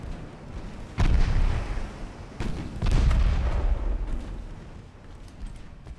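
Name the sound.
naval artillery guns firing in Ultimate Admiral Dreadnoughts video game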